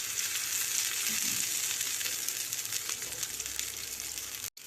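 Vanjaram fish fries in a pan with a dense, steady sizzle close by, a few faint stirring touches, and a sudden cut near the end; no one speaks.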